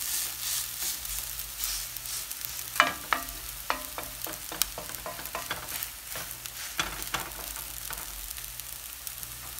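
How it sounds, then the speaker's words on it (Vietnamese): Egg fried noodles being spread and pressed flat in a hot pan, a steady close sizzle under a run of sharp scraping and tapping clicks from the spatula against the pan. "Chúng ta tán phần mì để cho dính hết phần chảo nha."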